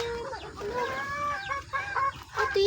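Chickens clucking on a rural farm in the Philippines, several birds close by giving repeated, rising clucks and short calls in uneven bursts against quiet outdoor background.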